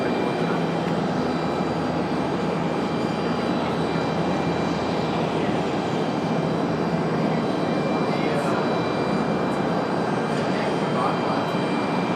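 An airplane landing at Raleigh Durham airport gives a steady, loud engine roar that holds throughout without easing.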